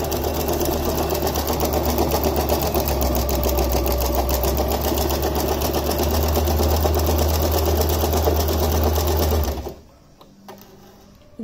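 A sewing machine stitches a zigzag trial on rough cloth, a fast steady mechanical rattle with a low motor hum running close and loud for about nine seconds before stopping abruptly.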